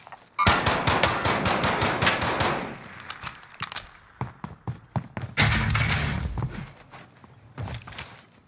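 Bursts of loud video game gunfire crackle in rapid automatic volleys, interrupted by pauses, scattered single shots and thuds, with no one speaking.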